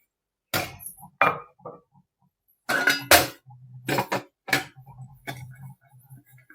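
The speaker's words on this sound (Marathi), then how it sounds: "आपल्याला आता इडलीचं भांड घ्यायचं आहे आणि त्याच्या पात्राला आपल्याला या प्रकारे तेल लावून ग्रीसिंग करून घ्यायचं आहे" Metal idli steamer plates clink and rattle against each other as they are oiled, in several short, close, bright bursts separated by quiet gaps, with no voices.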